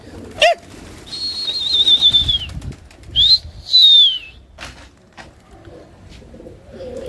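Pigeons burst into flight with loud flapping wings in quick flurries, mixed with whistling wing tones and coos, close by and otherwise fairly quiet.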